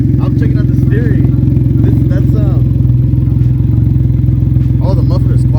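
Can-Am Ryker three-wheel motorcycle engine and muffler idling with a steady, loud low rumble throughout, with people talking over it.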